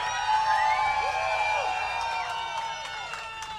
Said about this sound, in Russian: аплодисменты могли бы быть и погромче